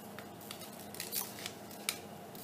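Scissors give a few faint, quick snips while cutting through a paper annulus for a Möbius strip demonstration, quiet and close with no talk.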